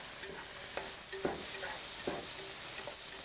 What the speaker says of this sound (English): You're going to come back to your mushrooms and you're going to stir them.